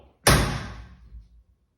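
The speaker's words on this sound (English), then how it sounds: "got to close the door." A single solid car door slam on a 1955 Nash Metropolitan, sharp and close, followed by a short fading rattle and a couple of soft thuds.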